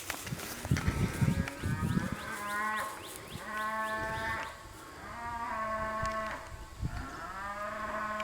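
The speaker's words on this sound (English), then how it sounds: "There's a cow baying way over there to the right." Cattle moo repeatedly in long, drawn-out calls across open ground, the lowing somewhat distant and echoing, with a few overlapping voices and no talk.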